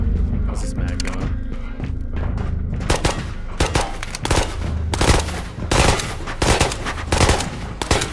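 Rapid automatic rifle bursts and single shots from the Ghosts of Tabor virtual reality shooter, fired in tunnels, loud and repeated across the whole stretch with brief pauses between volleys.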